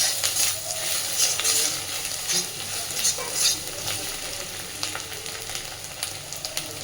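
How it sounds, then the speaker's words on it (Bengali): Turmeric and chili powder fry in a pan for an egg and masoor dal tadka, with a loud, continuous sizzle and frequent stirring scrapes throughout. "দিচ্ছি লঙ্কার গুঁড়ো আবারও খুব সুন্দর করে ভেজে নেব"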